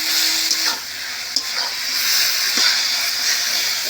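Taro leaves cooking with prawns in a pan give off a constant bright hiss and sizzle, with a few short scraping stirs breaking through. No one speaks.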